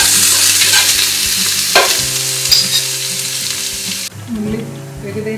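Chopped onions fry loudly in a pan for chicken curry, a dense and steady sizzle with intermittent stirring scrapes and a low mechanical hum underneath, close up and with no voices.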